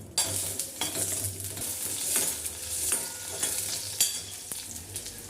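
Onion sautéing in oil in a pan for misal, a continuous sizzle broken by repeated scraping and stirring strokes of a spoon, close and fairly loud, with no voices.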